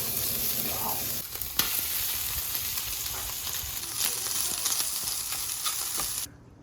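Continuous crackling sizzle of Spam fried rice frying in a pan, close and steady, with occasional stirring scrapes and no talking.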